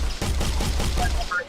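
Rapid video game gunfire from a playable Paragon character, a steady burst of about six evenly spaced booming shots over a second and a half, with a voice speaking over it.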